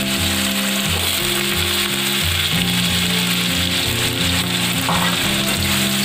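Potato pieces and nigella seeds sizzle loudly and steadily in hot oil in a home kitchen, with a utensil scraping and stirring through the crackling frying throughout.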